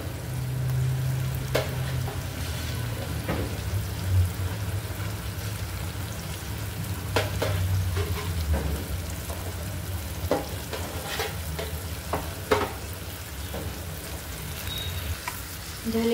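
Prawns fry in a thick curry masala, giving a steady close sizzle with occasional stirring scrapes and sharp spatters throughout.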